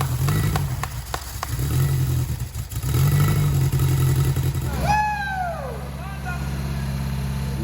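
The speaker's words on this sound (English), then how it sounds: "Here she is, firing up for the first time in years." An old VW Beetle engine fires up for the first time in years, then settles into a steady, loud, low running drone, with a brief high falling whine near the end.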